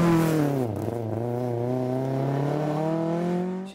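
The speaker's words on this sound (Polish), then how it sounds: "pokażę Wam, jak ten mój samochód ruszał" A BMW M3 E30 rally car pulls away from a standstill. Its loud, close engine note dips briefly, then climbs steadily and evenly for several seconds, with no talking.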